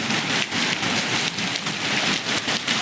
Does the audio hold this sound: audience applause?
no